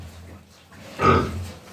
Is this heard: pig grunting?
yes